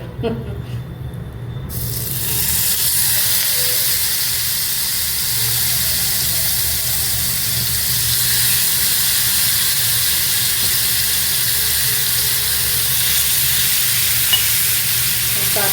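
Marinated fish for a Chettinad fish fry drops into a hot pan over medium flame, and a loud, steady sizzle with hissing steam takes over after a brief quieter moment, with occasional talk underneath.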